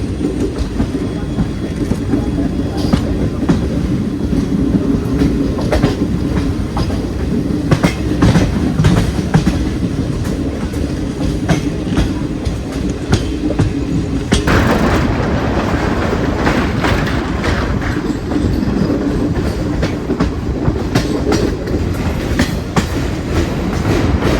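A train rolls along the tracks through the Western Ghats with a continuous rumble and regular clickety-clack of wheels, loud and close, with a brief shift in tone midway.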